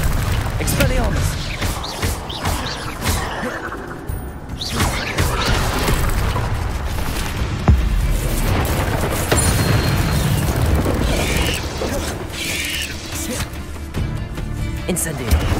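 An Expelliarmus disarming spell fires during Hogwarts Legacy gameplay, loud booming magical blasts and crashing impacts recurring over a dense, continuous bed of game effects and music throughout.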